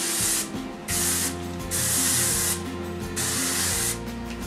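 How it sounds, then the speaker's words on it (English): Aussie Sprunch hairspray sprayed onto hair in a series of long, loud hissing bursts with short pauses between them, close up, with no talking. "I'm gonna add some hairspray. I use the Aussie Sprunch hairspray."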